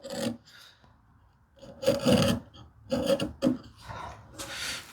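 A hand tool rasps across a wooden cupboard part to put a slight bevel on its edge, in several short, close scraping strokes separated by brief pauses.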